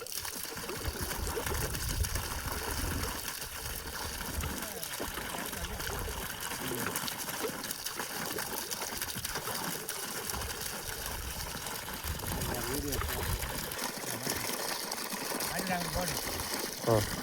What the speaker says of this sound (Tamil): நல்லா 2 இன்ச்சு தண்ணி போயிட்டுருக்குது.